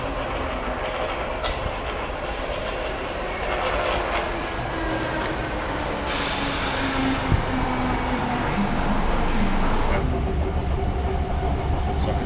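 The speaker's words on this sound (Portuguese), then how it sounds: "Já estamos aqui na estação, aguardando o nosso trem" A train waits at a railway station for the return trip to London, a steady rumble and rail noise filling the platform throughout, with a rising whoosh midway as it moves.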